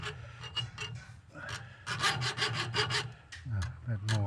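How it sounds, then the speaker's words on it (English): A hacksaw cuts metal on a sidecar in a quick run of close, rhythmic back-and-forth rasping strokes, with a short pause partway through before the strokes resume. "if I hacksaw off about there"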